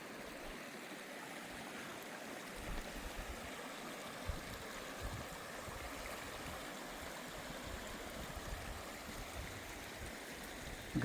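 A mountain stream of snowmelt flows steadily along the Colorado Trail, a continuous, soft, broadband rushing and gurgling heard close by and alone, with no talking.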